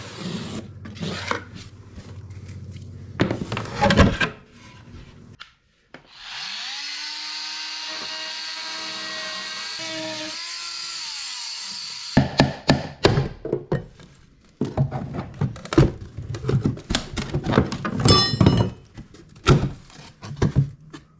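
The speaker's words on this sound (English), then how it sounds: "now I'll just mark off where the extent of the piece of plywood is and cut just inside that line" A power saw cuts through plywood on the cabintop of a wooden liveaboard boat. One loud, steady whine lasts about six seconds, with clattering knocks, thumps and handling noises before and after it.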